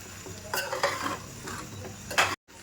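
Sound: slowly stirring frying prawn dry fish egg palya in pan

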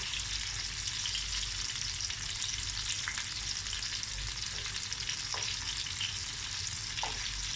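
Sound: meatballs frying in a pan

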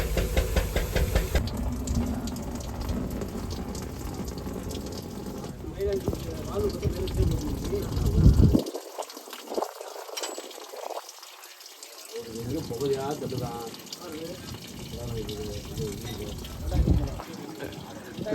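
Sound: water draining from truck radiator

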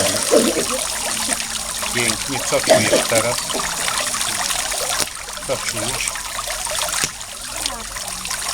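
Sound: water being poured into a glass

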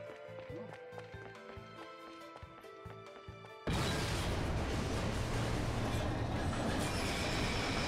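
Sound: subway train passing in video game Bayonetta

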